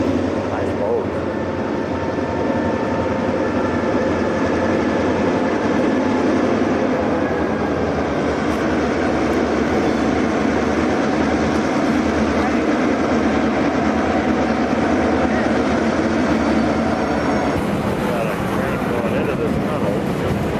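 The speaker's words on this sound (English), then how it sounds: "We are getting to watch a real train go by here." A train rumbles past in a continuous loud roar of wheels and rails, steady throughout with a low heavy drone.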